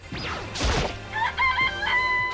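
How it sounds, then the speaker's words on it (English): A close, loud chicken from the video game Danganronpa clucks briefly before launching into a full cock-a-doodle-doo crow that fades into quieter clucks, with nobody talking. "It's a chicken. It's really alive."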